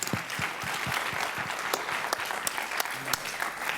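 Audience at a library developers' conference day gives a round of applause, steady dense clapping throughout at moderate level with some individual claps standing out.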